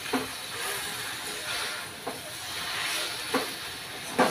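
Gongura leaves fry in oil for chutney with a soft, steady sizzling hiss, broken now and then by faint clicks of stirring.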